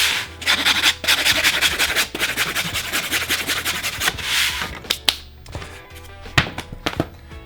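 A sandpaper sponge rubs in quick rhythmic back-and-forth strokes against a climbing hold, giving close, loud rasping bursts that break off into scattered lighter scrapes and taps.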